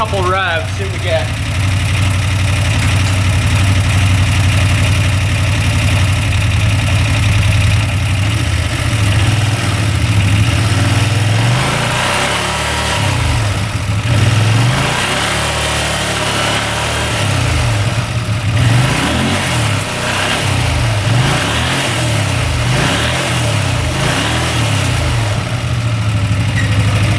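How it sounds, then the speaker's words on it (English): A used UTV engine idles loudly nearby, then is revved a couple of times, with the pitch rising and falling before it drops back to idle. A person talks intermittently over the engine. "Give it a couple revs, see what we get."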